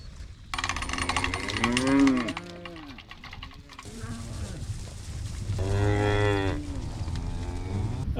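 Calves on a farm give two loud, drawn-out moos a few seconds apart, close by, with quieter rustling and outdoor background between them and no talking.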